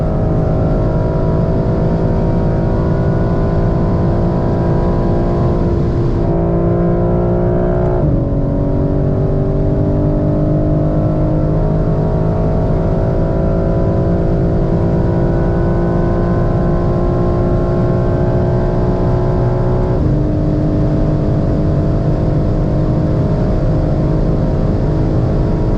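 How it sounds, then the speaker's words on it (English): A BMW M4 CSL accelerating hard at high speed on a road north of Munich, a loud sustained engine drone heard from inside with rising pitch and a few gear-shift drops, no talk. "I'm heading out in the M4 CSL on this beautiful evening just north of Munich."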